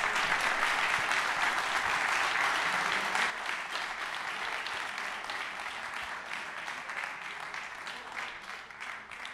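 A stadium crowd applauds an ESTAC football coach at a title celebration in Troyes, dense sustained clapping filling the space and easing slightly after a few seconds.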